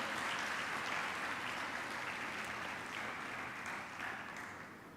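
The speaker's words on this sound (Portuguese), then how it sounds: "Você pode aplaudir Jesus bem forte de todo o seu coração" A church congregation applauding during a family worship service, steady and sustained clapping from a large crowd that fills the room and fades slightly toward the end.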